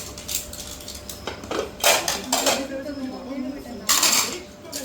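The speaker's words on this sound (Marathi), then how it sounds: "चमचे." Metal spoons clink and rattle against each other and against dishes as they are handled while shopping, with people talking nearby.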